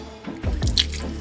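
Water drains off raw chicken pieces in a bowl during prep for Jamaican curry chicken, giving a close, wet splash and a few loud drips over about a second.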